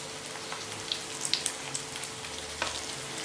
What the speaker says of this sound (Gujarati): તો ઓછા તેલમાં આપણી સરસ મજાની આલુ ટિક્કી હમણાં 2 જ મિનિટમાં બનીને રેડી થઈ જતી હોય છે.